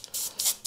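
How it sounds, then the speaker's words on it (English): Airbrush spraying magenta paint, heard as three short hissing bursts of air close to the microphone, quiet overall. "I'm going to add some magenta paint into the airbrush"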